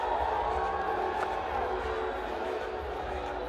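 A large stadium crowd at a Legends League cricket match roars steadily in a continuous, moderately loud wash of cheering, with no break across the short span.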